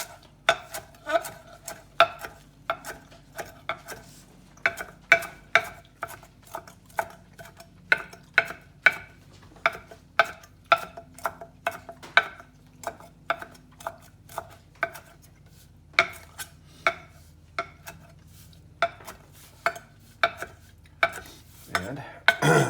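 Cilantro is chopped with a knife on a cutting board for shrimp ceviche, with a steady run of crisp, rhythmic blade taps, close and fairly quiet, and a few brief pauses.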